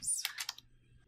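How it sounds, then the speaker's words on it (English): A few quick keystrokes on a computer keyboard, a short close cluster of clicks that fades into quiet. "Here I'm typing Google human resources."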